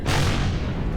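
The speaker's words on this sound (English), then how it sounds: "Rocket this guy." A rocket fired and exploding during a space battle in the video game Empyrion Galactic Survival, a loud broadband boom that fills the whole second and rumbles on without fading.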